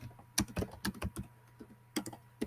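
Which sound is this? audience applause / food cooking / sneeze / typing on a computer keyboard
typing on a computer keyboard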